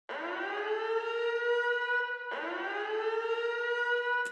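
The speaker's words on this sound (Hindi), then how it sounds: "इसके अंदर आती है एक सायरन की साउंड।" Siren sample from Logic's built-in library, loaded into Quick Sampler for a Punjabi hip-hop production: two loud, sustained rising wails with rich harmonics, the second cut off sharply at the end, no voices.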